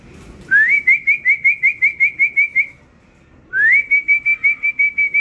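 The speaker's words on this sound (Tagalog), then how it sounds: "sumusunod sila sa pito ko. Nagre-respond sila." A person whistles to call homing pigeons, sounding two loud, close bursts of rapid trilled whistles with rising starts and rhythmic repeated pulses, separated by a short pause.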